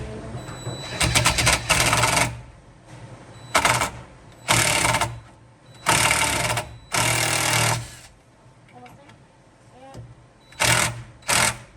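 A power drill drives screws into wood for a shop lumber rack, in several loud close bursts of motor whine, each a second or so long, separated by short pauses.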